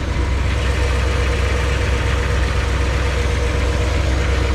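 A Chevrolet Bel Air's 348 V8 idles during fall maintenance with the fan running: a steady, even engine rumble with constant loudness throughout and no talk.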